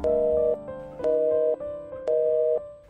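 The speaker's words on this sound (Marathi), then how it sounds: "आता फोन ठेव." A telephone is hung up in a Marathi stage skit, leaving a loud, close electronic tone that pulses evenly in half-second beeps with short gaps, three cycles, and no voices.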